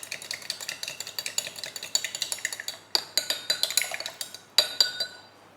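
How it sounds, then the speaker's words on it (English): A spoon stirs milk tea in a cup, clinking rhythmically against the sides in quick repeated strokes, close and fairly loud, with no voices. "let's give it a good stir"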